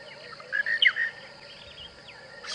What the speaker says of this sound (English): Much louder dawn chorus than we had the other day. Monotonous larks, laughing doves,